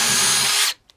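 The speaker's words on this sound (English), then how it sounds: "You did see the drill bog down, but that's because the screw up here is really aggressive." A power drill drives an aggressive screw and bogs down under load, giving a loud, strained whir that runs steadily, then cuts off abruptly, followed by a brief faint click.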